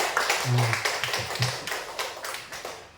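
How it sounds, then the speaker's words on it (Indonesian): An audience at a school training session gives a short, sparse round of hand claps, with a handful of separate sharp slaps that thin out and fade over about three seconds. "tepuk tangannya dulu dong"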